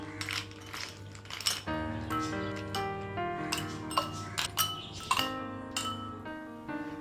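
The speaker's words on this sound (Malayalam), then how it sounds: "കൂടാതെ കുറച്ച് ഐസ് ക്യൂബ്സും ചേർത്ത് കൊടുക്കാം." Ice cubes drop into a glass of rose apple squash, making a series of bright clinks and ringing chinks, several in quick succession, close and fairly clear.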